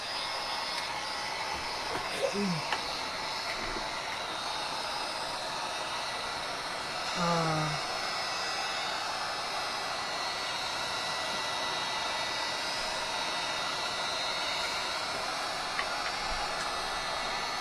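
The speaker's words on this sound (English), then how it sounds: "I'm gonna just dry it a little bit." A hair dryer blowing steadily on a decoupaged wooden heart craft, a continuous even whooshing hum throughout with a few faint clicks and bumps.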